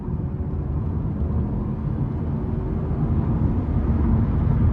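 A 2004 Lexus LS 430 with its 4.3 engine accelerates under throttle, a steady muffled low engine hum and road rumble from inside the cabin, even and subdued throughout with no talking.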